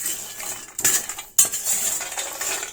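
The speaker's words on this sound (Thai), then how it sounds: "นี่เป็นการคั่วโกโก้เพื่อทำโกโก้นิฟครับ" Cocoa nibs being roasted and stirred in a pan for the nibs, with repeated scraping and clinking of a utensil against the pan in uneven bursts, close and fairly loud, no talking.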